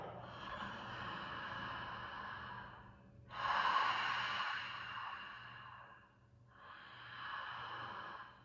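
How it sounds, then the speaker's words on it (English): Slow, deliberate yoga breathing in a beginner class: three long, audible breaths alternating exhale and inhale, each lasting a few seconds with brief pauses, close and fairly soft, with no talking. "Starting now, exhale, inhale"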